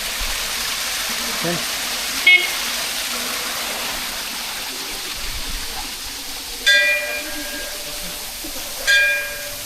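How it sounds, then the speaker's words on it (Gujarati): Water rushes steadily at Shivghat on the Ahwa jungle road in Dang, a broad continuous hiss. A few brief tonal chirps and knocks rise above it. "જો અહીંયા પાણી કેટલું જાય"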